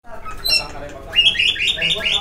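Caged songbirds in a home bird storeroom, several chirping and squawking close by, with bright rapid trills building in the second half; someone talks over them.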